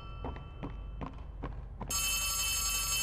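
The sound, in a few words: telephone ringing in Poppy Playtime 3 video game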